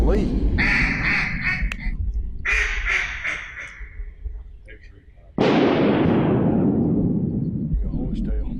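Shotgun blasts while duck hunting in flooded Arkansas timber, with a loud sharp report near the middle that rings out in a long decaying echo through the trees, amid duck quacks and someone talking.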